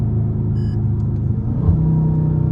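Dodge Charger Scat Pack cruising on a highway, a steady loud engine drone and road rumble throughout, with a slight surge in the middle.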